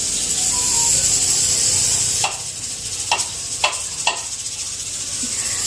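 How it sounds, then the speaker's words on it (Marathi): A steady, loud steam hiss of a pressure cooker whistle cooking plain rice runs for a couple of seconds and cuts off, followed by a few sharp clicks. "कुकरमध्ये ना मी साधा भात लावलेला आहे त्याच्या ना शिट्ट्या होत आहेत"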